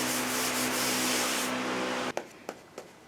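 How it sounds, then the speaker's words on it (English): A sander rasps steadily against hardened body filler on a 1969 Mustang fender for about two seconds, then stops, followed by a few light taps and rubs. "One more sanding."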